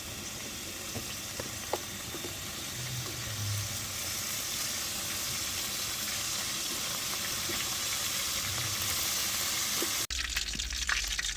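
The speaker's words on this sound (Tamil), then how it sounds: "ஆயில் ஊத்திக்கலாம். கடுகு எடுத்துக்கலாம் காய்ஸ்." Mustard seeds sizzling in hot oil in a home kitchen, a steady broad crackling hiss that runs throughout with a few faint pops, ending in an abrupt cut.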